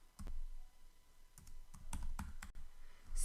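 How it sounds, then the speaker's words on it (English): Typing on a computer keyboard, a handful of soft, separate key clicks spaced irregularly over a few seconds, faint and close in a quiet room with no voices. "we are going to type in spooky"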